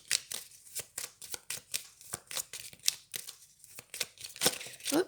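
A Lenormand oracle card deck with a Merry Christmas theme is shuffled by hand, making rapid, crisp, close riffling and slapping of cards in an uneven rhythm, with no talk.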